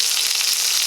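A chuck roast sizzles and fries loudly in a hot pan, a continuous close crackling hiss with no voices.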